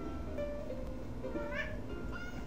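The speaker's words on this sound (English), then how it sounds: "No, go away, cat." A cat meowing in the Magical Diary video game, a faint brief mew rising and falling under steady background music.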